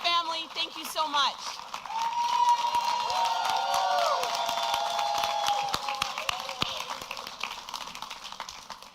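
A crowd at an election night event cheers and applauds for a candidate's husband, a sustained loud wash of clapping and whoops that follows a brief voice and fades slowly.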